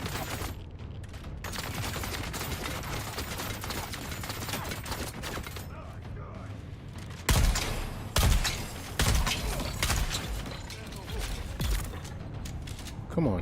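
Gunfire in the video game Dune Awakening: dense, continuous rattling bursts of automatic fire, with heavier, louder shots punching through in the second half.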